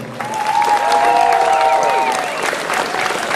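Loud, sustained applause from the audience at a historical reenactment festival, with voices and cheering mixed into the dense clapping throughout.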